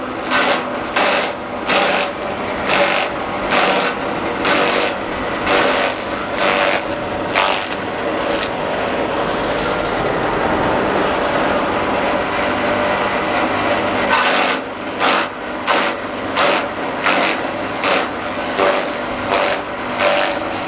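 A chaff cutter chopping fodder runs loudly and close, giving a steady rhythmic chopping beat over a continuous mechanical whir, with a smoother stretch of whirring in the middle and no speech.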